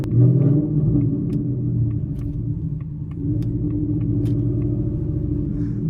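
Deep, loud exhaust rumble of a 2024 Ford Mustang GT while driving, a continuous throbbing low drone that dips briefly around the middle and returns, with faint clicks scattered over it.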